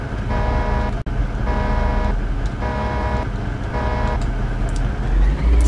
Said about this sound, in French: Klaxon sympa d'ailleurs au passage.